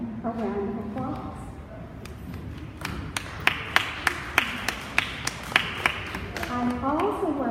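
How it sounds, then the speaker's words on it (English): Scattered, fairly evenly spaced claps ring out at a graduation ceremony, sparse rather than a full roar, under and between a speaker's voice carried over a hall sound system. "So I think we should all give them a round of applause."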